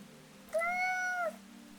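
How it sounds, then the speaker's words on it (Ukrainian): A single clear cat meow, drawn out for under a second, close and distinct against a quiet background with a faint low hum. "Кіт, наче зрозумів його, і відповів на питання."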